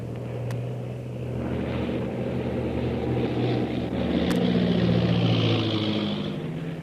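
A propeller airplane drones steadily overhead, a sustained low engine hum that swells and fades slightly across the span, heard alone with no voices.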